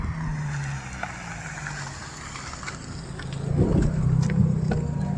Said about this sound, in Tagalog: Yan, yung kotse na yan.